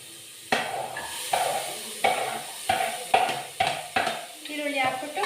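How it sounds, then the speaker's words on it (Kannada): Onions frying and being stirred in a pan, with a steady sizzle and repeated scraping strokes of a spoon about every half second, close and fairly loud. "ಈರುಳ್ಳಿ ಹಾಕ್ಬಿಟ್ಟು ಸ್ವಲ್ಪ ಫ್ರೈ ಮಾಡಬೇಕು."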